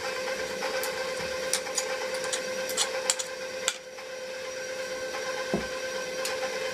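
An electric mixer beats banana bread batter with mashed bananas in a home kitchen, a steady close motor whir with scattered clicks and taps from the beaters against the bowl.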